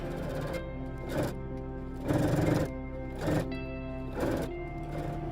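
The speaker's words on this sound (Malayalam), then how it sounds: "ഇനി നമുക്ക് നെക്കിൻ്റെ അരിക് അടിച്ചു കൊടുക്കാം." A sewing machine stitching along the edge of a canvas neck piece, steady motor hum broken by short louder bursts of stitching, close up with no talk.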